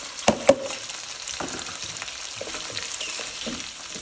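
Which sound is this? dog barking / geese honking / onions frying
onions frying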